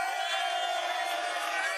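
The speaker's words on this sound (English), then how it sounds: "Wow. They're booing me." A crowd boos in one sustained, loud, dense roar of many voices that lasts without a break.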